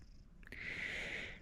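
A house cat purrs up close and faintly, a soft steady hum that swells after a brief snuffle and holds for about a second.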